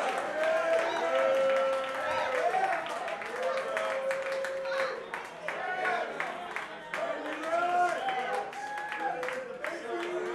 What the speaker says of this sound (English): How about another great round of applause for these outstanding musicians sharing their hearts and souls with us.